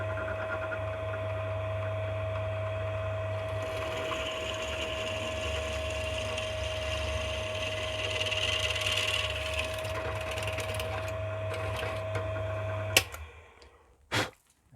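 A 6.5 mm hole being drilled into a metal adapter bracket for a phone holder: a continuous, close electric drill whine holding steady for about thirteen seconds, then cutting off, followed by a couple of sharp clicks.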